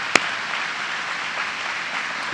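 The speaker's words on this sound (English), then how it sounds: "Let's give him another big round of applause, Governor Cuomo." An audience applauds New York Governor Cuomo at a public announcement, a broad, even wash of clapping opened by one sharp close clap, sustained for a couple of seconds with no speech.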